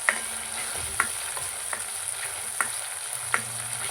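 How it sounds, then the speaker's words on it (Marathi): Masala for Kolhapuri mundi paya fries in oil in a pan, a continuous close sizzle broken by regular scraping strokes of a spoon stirring roughly once a second. "मस्त तेल सुटेपर्यंत मसाला भाजून घेऊया"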